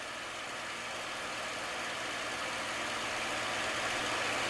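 A P-51 Mustang's piston engine throttled back for slow flight, a steady, even drone heard from inside the cockpit, continuous and unbroken with no talk.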